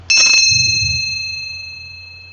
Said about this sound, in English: I probably should do the bell first to do that, cleanse this space.